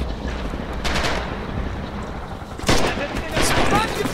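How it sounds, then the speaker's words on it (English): Bursts of machine-gun fire from a Russian position in the World War II shooter Rising Storm/Red Orchestra 2, two loud volleys near the start and a denser, heavier burst later, with battle noise throughout. "I got distracted by that Russian machine gun up there."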